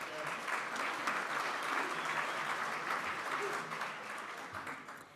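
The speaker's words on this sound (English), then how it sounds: "Let's give them a round of applause." Audience applause at a club gala event, a dense, sustained clapping from a room full of people that holds steady for several seconds before slowly thinning out.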